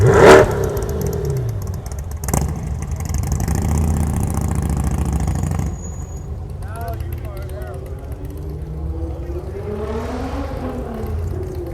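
Car engines rev loudly on a street in Niagara Falls, with a sharp roar at the start, a sustained throaty drone, then passing traffic fading and rising, while someone talks close by.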